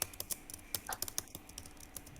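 Rapid, irregular clicks of a computer keyboard being typed on in a classroom during a spelling lesson, close and fairly quiet, with no voices over the tapping.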